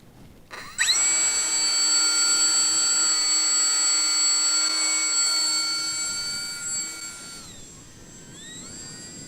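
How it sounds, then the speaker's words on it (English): H-King Hawker Hurricane 750mm electric RC model plane flying, its motor rising to a steady high whine that lingers, then shifts pitch and fades slightly as it passes. "But let's see how it flies, Carl."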